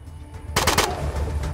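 A short burst of rapid gunfire rings out in the post-apocalyptic RPG ATOM RPG, a few quick cracks in a row over a low steady background.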